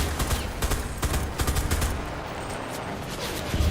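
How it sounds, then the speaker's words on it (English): A submachine gun in the game Enlisted fires rapid bursts of loud, close shots that merge into rattling strings, then pauses briefly before another burst. "if you're not trying to shoot a submachine gun at long range"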